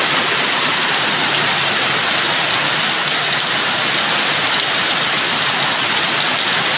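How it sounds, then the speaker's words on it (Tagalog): A strong current of water rushes continuously in a loud, even roar without any pauses. "Lakas na naman po ng agos dito ng tubig."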